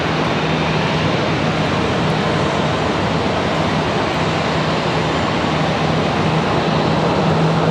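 A Boeing 777 from Paris departs Charlotte Douglas International Airport, its jet engines a loud, steady broadband roar that holds unbroken from start to finish without any voices.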